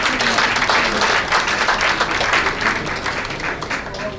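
Audience applause at a regional literature pageant, Miss Littérature Régionale 2019: dense, steady clapping close up for the full stretch, with a few voices mixed in.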